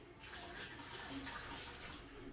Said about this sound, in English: I have a nice wide handled colander that fits right over the bowl I'm pouring into